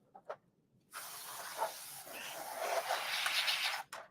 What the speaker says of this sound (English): And again, some compressed air through this.